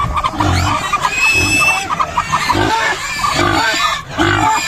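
Chickens cluck and murmur close by in a busy, overlapping stream of short calls, with a few higher squawks mixed in, near a nest.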